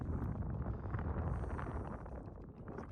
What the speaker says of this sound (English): Have about 15 knots of wind, maybe gusting to 20, 25